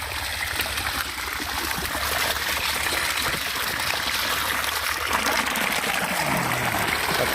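Water gushing from a pipe into a field channel, a steady close rushing and trickling flow that runs continuously without pause or talk.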